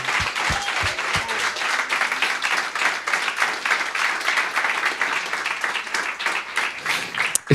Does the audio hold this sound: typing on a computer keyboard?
no